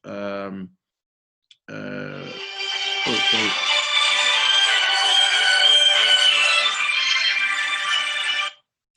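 A mobile phone rings with a bright, continuous electronic ringtone for several seconds, right after a brief bit of speech and a short pause.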